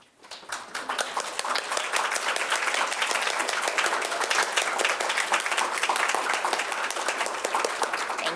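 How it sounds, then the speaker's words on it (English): Audience clapping for the Freedom Scholars cohort, building quickly from silence into sustained, dense applause from a crowd close by, holding steady to the end. "could we have all the Freedom Scholars stand so we could give them applause?"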